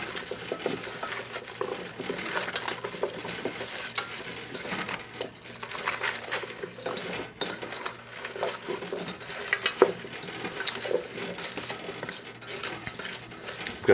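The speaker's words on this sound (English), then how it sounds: "Get our hands in there and just stir this all up" Hands mix seasoning into a prime rib roast, giving a continuous close, wet squishing and patting with light scrapes and clinks, steady and moderately loud throughout with no talking.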